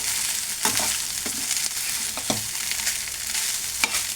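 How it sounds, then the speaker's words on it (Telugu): Rice is mixed in a hot pan for egg fried rice, a steady sizzle broken by several spatula scrapes and taps at uneven intervals, close by with no one talking. "సరిపడా అంత రైస్ అనేది తీసుకొని మనం బాగా మిక్స్ చేసుకోవాలి ఫ్రెండ్స్."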